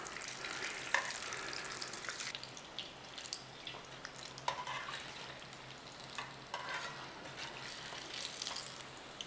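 Batter scraps fry in oil with a faint, continuous bubbling sizzle and occasional soft crackles, steady and fairly quiet throughout.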